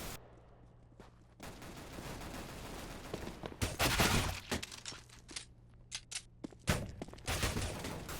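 Weapons fire in a first-person shooter video game: bursts of rapid gunshots, some sharp cracking hits and quieter pauses between the volleys.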